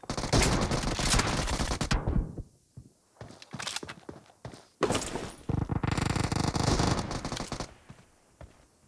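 Video game gunfire rattles in loud automatic bursts separated by short quieter gaps with scattered single shots and clicks, close and punchy.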